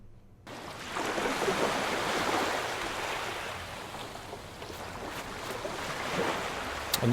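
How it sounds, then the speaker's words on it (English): Continuous video game sea-wave ambience: waves wash and surge steadily, a broad rolling roar of surf with no voices. "the sea sound will be coming from the sea,"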